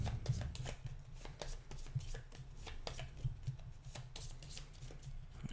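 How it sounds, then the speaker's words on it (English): Playing cards from the Pandemic: Reign of Cthulhu board game are shuffled thoroughly, a continuous run of crisp riffling and snapping clicks close by, with no talking. "let's shuffle thoroughly"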